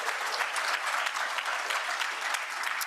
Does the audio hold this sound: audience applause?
yes